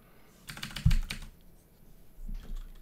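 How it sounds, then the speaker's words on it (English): A clicky mechanical computer keyboard is typed on close up during a Dungeon Crawl Stone Soup game, a quick burst of sharp clacks followed by a few scattered keystrokes. "we got the clicky clacky keyboard back"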